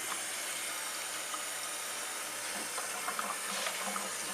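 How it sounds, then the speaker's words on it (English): Tap water pours steadily into a sink over a pot of drained boiled beets, a continuous hissing splash with no talk. "I'm going to be running some water on it so I can cool them down some."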